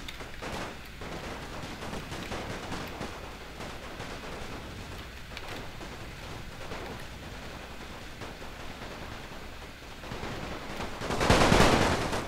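Musket fire rattles through a Napoleon Total War battle on the Belgian front, with a continuous crackling barrage of shots that swells into a loud, dense volley near the end. No voices are heard.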